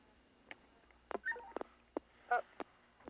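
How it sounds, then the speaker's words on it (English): Telephone keypad tones while dialing to call back a line during a 911 emergency call, a quick irregular series of short beeps, faint and alone. "I immediately tried to call back on the line."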